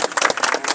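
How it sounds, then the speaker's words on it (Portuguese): Congregation at an open-air evangelical street service in Fortaleza clapping for Jesus: a short burst of uneven hand claps, close and fairly loud, no talk. "Palmas para Jesus."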